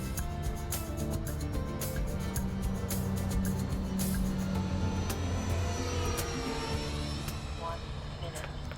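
A Freewing F/A-18 Super Hornet RC jet flies at full throttle, its electric ducted fan giving a steady whooshing whine that shifts in pitch as it passes, heard at a distance under light wind noise.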